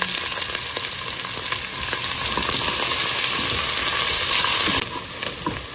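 Onions fry steadily in hot oil for mushroom biryani, a loud continuous sizzle and crackle with scattered pops that drops off slightly near the end, no voices.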